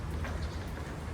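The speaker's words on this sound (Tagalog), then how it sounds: "O, nawala na naman yung ulan." Rain falling in Hong Kong after Typhoon Noul, a steady dense hiss of drops on surfaces with a low rumbling undertone, continuous and fairly close.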